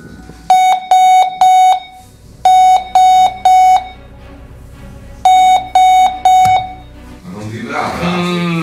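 A novelty alarm clock under test rings in three bursts of three rapid electronic beeps each, loud and close, with pauses between bursts; talk in Italian follows at the end.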